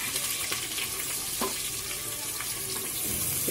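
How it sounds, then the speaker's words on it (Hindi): Onions sizzle in a pan for mutton korma, giving a steady, soft frying hiss throughout with faint clinks, close by and without talk. "ये जरा प्याज फ्राई होने दो"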